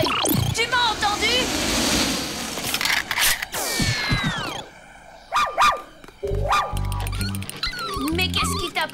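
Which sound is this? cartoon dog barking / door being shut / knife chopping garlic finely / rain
cartoon dog barking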